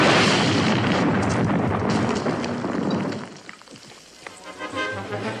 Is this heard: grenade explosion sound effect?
yes